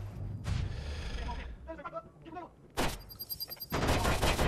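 Rapid automatic fire from an Uzi-style pistol in the video game Watch Dogs: loud bursts of quick shots that come back after short gaps, with other game sounds around them.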